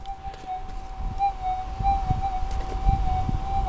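A steady, slightly wavering electronic tone hums continuously from a GPX4800 metal detector over a buried coin, with soft rustling and thumps from handling and digging beneath it.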